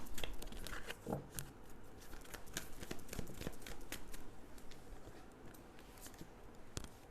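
Soft papery riffling and shuffling of tarot cards, with repeated light flicks and slides of cards being drawn and laid down, fairly close and quiet, with no voice.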